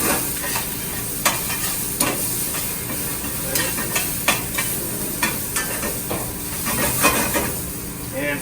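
Green beans, blanched in salted boiling water, sear in a hot pan with a steady, close sizzle and hiss, broken by occasional sharp clatters as they are stirred and tossed.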